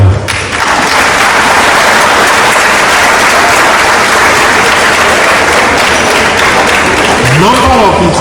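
Sustained, dense applause from an audience at a University of Ibadan inaugural lecture, loud and steady for the whole stretch with a crowd murmur mixed in.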